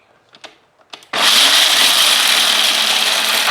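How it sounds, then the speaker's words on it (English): Loud, steady whirring and grinding of a blender crushing pumpkin seeds into crumbly bits, kicking in abruptly after a few faint clicks and running continuously to the end. "what we're going to do is going to blend these up first until they come real nice and crumbly"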